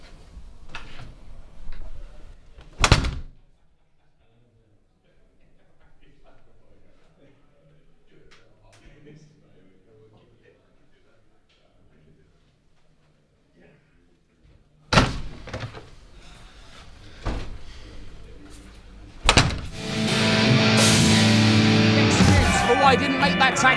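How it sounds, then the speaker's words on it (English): In a wrestling promotion's backstage segment, a door slams shut with a sharp thump, then a quiet stretch with faint movement, then more knocks and loud crowd-like noise. "Close the door."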